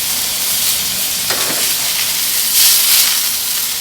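Tri-tip sizzling on the grill, a loud steady hiss and crackle of fat frying that continues throughout, swelling slightly near the end.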